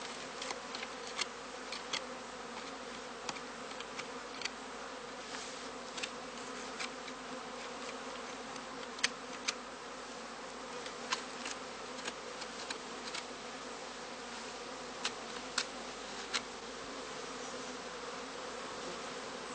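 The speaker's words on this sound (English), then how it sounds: "The bees now set about enlarging the entrance of their skep by gnawing it and smoothing it all around with propolis." Honeybees buzzing steadily around heather skep hives in an apiary during cast swarming, a dense continuous hum with many bees passing close by in brief louder flits.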